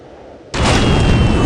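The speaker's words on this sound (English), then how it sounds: "Watch out for that firework!" A firework blast in the Lego Ninjago Shadow of Ronin video game, a sudden loud boom with a sustained crackling roar that follows a quieter stretch of low ambient game sound.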